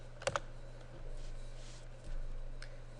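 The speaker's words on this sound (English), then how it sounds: "I could type in here" A search typed on a computer keyboard, a couple of quick faint key clicks near the start, then quiet room hum with a soft click later, heard close but very low.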